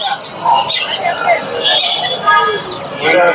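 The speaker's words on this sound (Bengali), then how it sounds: "এটা ময়নার বাচ্চা ময়নার বেবি" A young hill myna chick makes sharp, high-pitched calls in short bursts, close by, with people talking nearby at a bird market.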